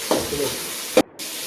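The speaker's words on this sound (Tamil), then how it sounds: "அப்புறம் பூண்டு போட்டு நிறம் வரும் மாதிரி அப்படியே கொஞ்சம் நேரம் வதக்கிடலாம்" Garlic sautéing in a pan for a country chicken gravy, a close, steady sizzle with two sharp scraping stirs, cut briefly by a moment of near silence.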